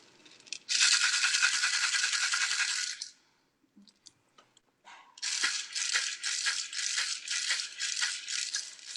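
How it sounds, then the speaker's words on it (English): A handheld rattle shaken for a song of offering, a loud sustained shake for about two seconds, a short pause with a few scattered taps, then resuming as a steady rhythmic rattling pulse, close and alone. "And I'm gonna use my rattle."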